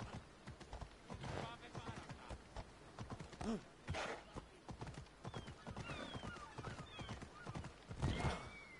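Steady clip-clop of horse hooves in the video game Assassin's Creed Odyssey moves along with a brief whinny, while a person talks over the top.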